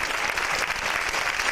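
Dense audience applause at a Basque-themed evening event in Slovakia, a steady wash of many hands clapping at close range, loud and continuous without pause, with no one talking over it.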